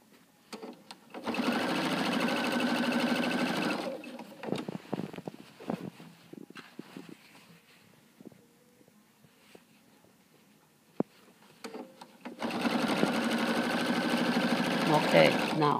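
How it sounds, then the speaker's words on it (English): A sewing machine stitching down quilt binding runs in two steady, loud bursts at the start and end, with quieter handling sounds and brief talk in the pause between. "I'm going to sew down a little bit farther."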